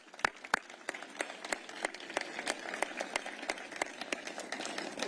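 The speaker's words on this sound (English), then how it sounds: "Let's give the Saban family another round of applause." Guests at a topping-out ceremony for The Saban Center applaud the Saban family, with sharp individual claps standing out distinctly over a thinner, continuous patter of hands, heard from a moderate distance.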